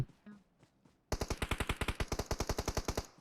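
Automatic weapon fire in PUBG Mobile, a fast, loud burst of about twenty evenly spaced shots that starts abruptly after a quiet moment and runs for around two seconds.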